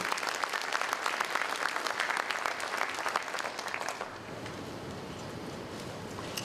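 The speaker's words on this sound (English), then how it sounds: "give that team a round of applause for getting some work done" A crowd at a mayor's State of the City address applauds a city team, with dense steady clapping for about four seconds that then drops away to quieter room noise.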